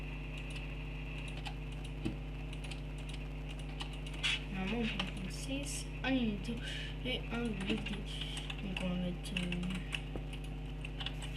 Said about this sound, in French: désolé pour le bruit du clavier et de la souris